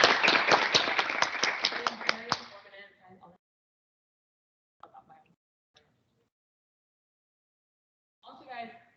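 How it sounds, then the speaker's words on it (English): A short burst of audience applause at a college social media workshop meeting, sharp and fairly close, fading out after a few seconds into near silence, with brief quiet talk later. "let's give her a round of applause and welcome back"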